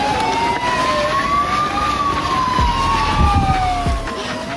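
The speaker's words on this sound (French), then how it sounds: "on entend des sirènes de partout" Police sirens wail during a street protest march in Belgium, with a loud rising and falling tone sweeping continuously over traffic rumble and a second siren faintly layered beneath.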